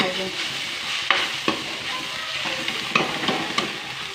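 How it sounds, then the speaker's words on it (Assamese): Chickpeas fry in a pan with salt and turmeric, giving a dense close sizzle with a few sharp stirring scrapes and knocks at a steady pace. "অকণ ভাজি ভাজি তে নিমখ দিলোঁ, হালধি দি দিলোঁ।"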